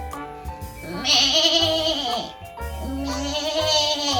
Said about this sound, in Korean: 대나무 밑에 염소가